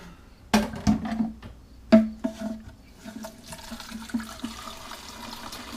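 Cold water is poured into a calf milk bottle and mixed, giving splashing, gurgling sloshes in irregular bursts close to the microphone, gradually settling into a softer trickle.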